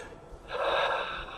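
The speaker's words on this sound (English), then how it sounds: "So keep breathing." A deep breathing exercise, heard as a sharp, close inhale that swells after a quiet start and holds as a strong airy rush before easing.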